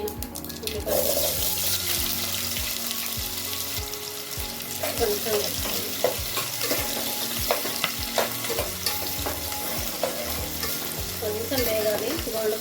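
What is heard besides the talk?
onions frying and being stirred in oil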